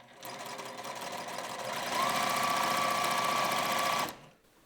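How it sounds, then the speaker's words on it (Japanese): A sewing machine runs steadily as it stitches pin tucks through fabric held taut, with a loud, fast, even mechanical chatter that picks up speed midway, then stops abruptly and leaves near silence. "こういうふうに縫うと上下のよれがなく、ピンタックもきれいに縫えます。"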